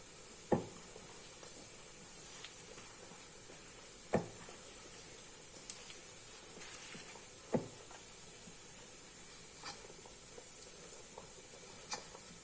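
Water boils in an idli steamer pot on a stove for steaming therali, giving a steady low hiss with a few sharp knocks and taps spaced several seconds apart, quiet and close.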